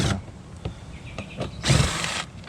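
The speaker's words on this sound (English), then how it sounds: "these are T25 bit right there on my impact drill." An impact drill fitted with a T25 bit backs out interior trim screws on a Tesla Model S Plaid, giving short close whirring bursts followed by one louder rattling hammering burst.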